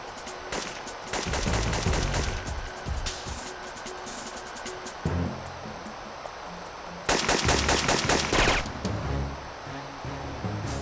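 Automatic gunfire from a player's gun in the Syphon Filter 2 video game, bursts of rapid shots, loud and close, the heaviest around the second and eighth seconds, with quieter stretches of game ambience between them.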